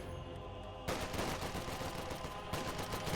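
Gunfire in a Company of Heroes 2 match, with a Fusilier squad firing from inside a garrisoned building at assault engineers: a dense, steady fusillade of shots that swells louder partway through and continues without pause.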